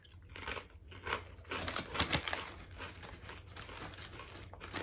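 Close, steady crunching and chewing of potato chips, dense crackly bites repeating over several seconds with no voices.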